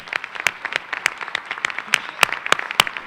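An audience at a Grand Rapids Public Schools address applauds with sharp, scattered claps rising to a fuller round of applause, close and fairly loud.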